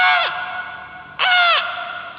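A human voice imitates a crow's loud cawing, giving two harsh, drawn-out caws about a second apart, each one ringing with a slight echo.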